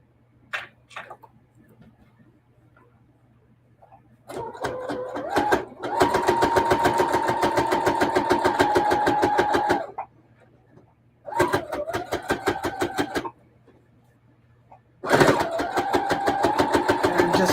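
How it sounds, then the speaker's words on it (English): A sewing machine stitches around the edges of a quilted table runner through batting, backing and front fabric, running in several loud rapid bursts with pauses between them. "just sewing around the edges to hold the batting and the backing and the front fabric."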